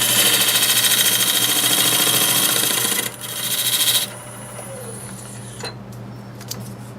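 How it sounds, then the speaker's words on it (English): A negative rake scraper cuts an apple wood bowl spinning on a lathe, giving a loud, steady scraping whir with a constant motor hum. The cut stops abruptly partway through, leaving the quieter hum of the lathe winding down. "I'll use this tool that I turned into a negative rake scraper to get up next to it"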